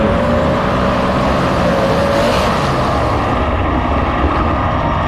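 Race cars in a match race final at a dirt track drag race down the front stretch, a loud, sustained engine roar that stays close and steady before easing slightly at the end.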